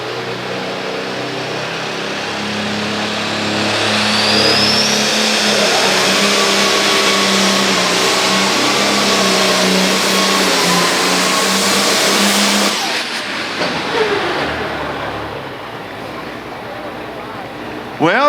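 Light limited turbo class pulling tractor called Smokin' Red roaring at a county fair pull, a loud sustained engine drone that builds over about twelve seconds then cuts off abruptly, leaving quieter crowd and background noise.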